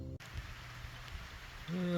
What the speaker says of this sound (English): It'd be nice if it stopped raining.